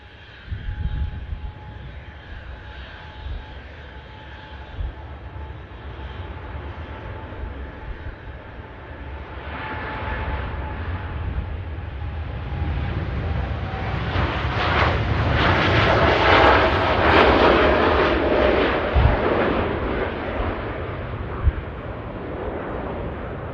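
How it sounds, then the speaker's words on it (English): An Etihad Boeing 787 Dreamliner takes off at an airport, its jet engines rising from a distant rumble to a powerful, swelling roar that peaks and lingers. The sound is heard alone and continuous throughout. "Oh, off she goes, the Etihad Dreamliner."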